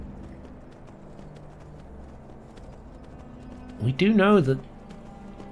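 A horse in the video game Skyrim trots with soft, steady clip-clopping hoofbeats, low and close, while someone briefly talks over them near the end.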